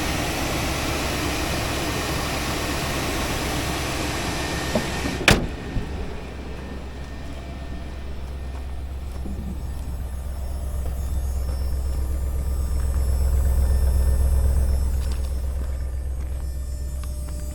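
A Chevrolet Suburban engine idling smoothly and quietly, a steady low rumble and hum that sits close and even throughout, with one sharp click early on and no voices.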